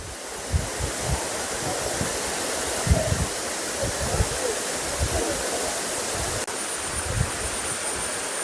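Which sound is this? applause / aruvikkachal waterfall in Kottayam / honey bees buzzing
aruvikkachal waterfall in Kottayam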